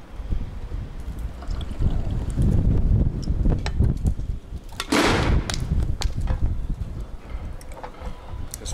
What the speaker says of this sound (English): This wind.